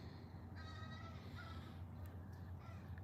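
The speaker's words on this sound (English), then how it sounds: "There's bird drama." Crows call from a distance outdoors, a few harsh caws rising briefly over a steady background hum, then fading.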